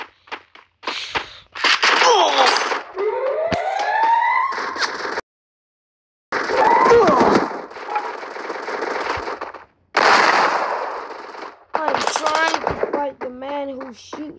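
Gunfire in the mobile shooter Free Fire crackles in loud bursts and rapid machine-gun strings, broken by brief silences, mixed with game effects and some voice.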